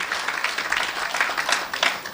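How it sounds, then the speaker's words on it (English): Audience applause fills a town hall public forum after the panelists answer, a steady wash of many hands clapping at moderate loudness with no talk over it. "Please give our panelists a round of applause for those answers."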